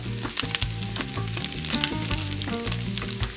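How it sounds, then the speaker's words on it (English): Garlic hits hot oil in a pot and sizzles loudly, a dense crackling hiss with quick pops and spits, close by and continuous through the whole moment. "And then to this, I'm going to add some additional garlic,"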